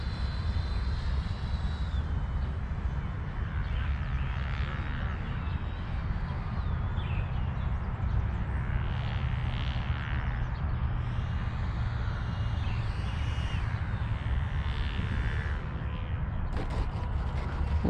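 An FMS Integral 80mm EDF RC jet flies overhead with a steady turbine-like whine and roar that holds throughout, swelling and shifting in pitch as it passes.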